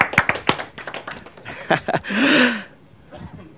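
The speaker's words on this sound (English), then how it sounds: "Clap for yourself, clap for yourself." A few sharp, scattered hand claps ring out from a speaking-event audience, a quick cluster at first and a couple more later, followed by a brief vocal sound and a fading hush.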